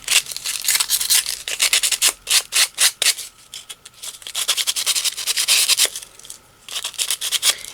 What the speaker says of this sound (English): I've got some sandpaper, and I'm just going to sand it a little bit.